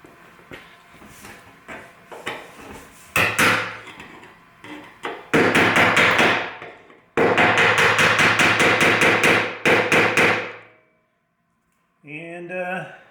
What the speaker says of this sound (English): we will beat that in with a hammer and a screwdriver